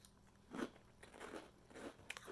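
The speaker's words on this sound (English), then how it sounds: "They got a really good crunch." Someone bites into and chews a crunchy cheese-flavoured Coniks snack, giving several soft, faint crunches close to the mic with no talking.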